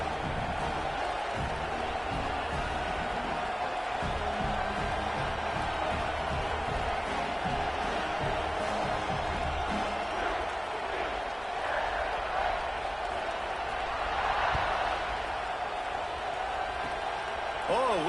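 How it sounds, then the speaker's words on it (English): Football stadium crowd at a Georgia Tech game buzzing after a score, a continuous broad murmur of voices and scattered cheers behind steady commentary. "this crowd is buzzing after that last score"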